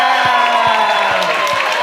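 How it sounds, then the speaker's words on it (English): Crowd cheering and whooping for the comedy hosts at a first-year showcase, a loud sustained roar of voices with a few sharp yells, continuous throughout. "Now please make some noise for your hosts, Elizabeth Stone and Jack Reisman."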